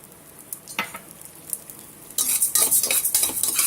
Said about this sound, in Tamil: பருப்பு வந்து நல்ல வாசனை வர வரைக்கும் வறுத்துக்கோங்க